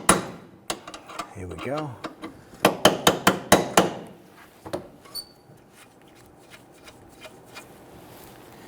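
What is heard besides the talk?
hammer tapping on a nut on a stud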